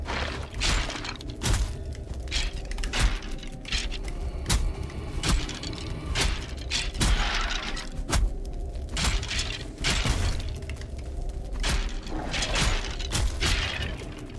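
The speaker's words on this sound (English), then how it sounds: "we got another bone pile over here. We better go destroy that" Bone pile being smashed in the Valheim survival game, a series of sharp, loud cracking and crunching impacts repeating every second or so over a rumbling background of combat noise.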